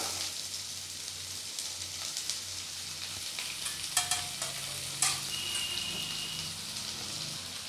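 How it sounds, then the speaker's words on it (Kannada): Finely chopped onion sizzles in a hot oiled pan for a sabudana khichdi breakfast, a steady close frying hiss with a few sharp spits and light stirring scrapes, no voices. "ಸಣ್ಣನೆ ಕಟ್ ಮಾಡಿ ಒಂದು ಇರುಳ್ಳಿ ಹಾಕಿ"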